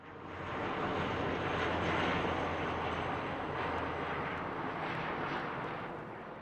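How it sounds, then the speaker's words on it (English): A propeller or jet airplane passing overhead above a backyard garden, a broad steady roar that swells quickly and holds loud and even before easing slightly, with no talking. "there's an airplane above us"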